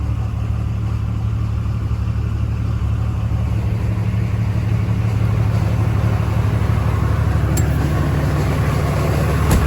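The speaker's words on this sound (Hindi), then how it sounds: "तो देखिए इंजन की साउंड जो है वो बहुत कम हो गई है" A Toyota HJ61 engine idles steadily at close range, a low, even rumble that holds unchanged throughout with no voices.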